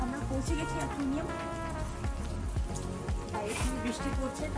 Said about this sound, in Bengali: বৃষ্টি পড়ছে, তাই জন্য আমরা একটু শেডে দাঁড়িয়ে আছি।